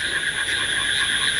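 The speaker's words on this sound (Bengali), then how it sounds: "দেখেন ব্যাঙের ডাক কত, সেই ডাক ডাকতেছে।" Frogs calling on a rainy day in a dense, continuous chorus of high, shrill trilling croaks that pulse steadily throughout, loud and unbroken with no voices.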